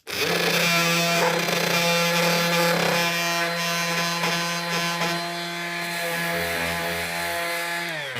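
Bosch UniversalSander 18V-10 cordless sander running on wood, a steady motor whine with strong tonal hum and rasping abrasive friction, close and loud, pitch dipping slightly as load changes.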